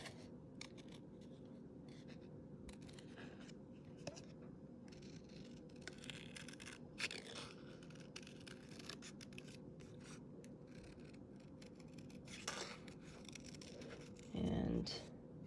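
Scissors fussy-cut fabric pieces in a quiet room, soft snips and rustling fabric scattered across the clip, faint and close, with a person talking at moments.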